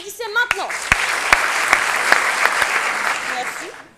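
An improv show audience in Paris bursts into applause after a brief voice, a full room of clapping punctuated by a few sharp rhythmic claps before fading out.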